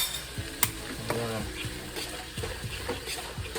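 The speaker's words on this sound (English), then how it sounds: "I'm gonna stir it again" A spoon stirs split pea soup in a pot, making soft scraping and sloshing sounds in short irregular strokes, close by under a low background hum.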